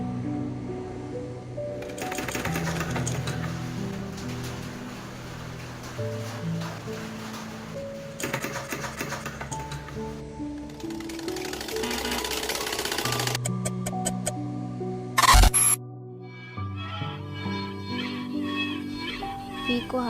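A sewing machine stitches pico edging onto a saree with a steady, fairly quiet mechanical whirr that stops and starts, and a voice talks over it.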